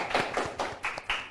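A group claps at a school scout program interview for SMK 45 Jakarta, giving a short, uneven round of hand claps, fairly close and moderately loud, with no talking.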